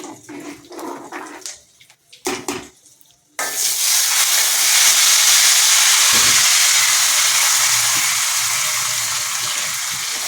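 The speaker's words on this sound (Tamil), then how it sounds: "தேங்காயும் போட்டு சோப்பாக வறுக்கணும்" Grated coconut roasting in a hot pan: a few soft scrapes and clatters, then a sudden loud, sustained sizzling hiss that fades slightly over several seconds, with no voices.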